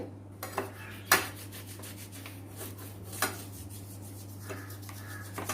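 Soft rubbing and scraping with toothpaste against a metal gas stove surface with a few light clinks, quiet and steady over a low background hum.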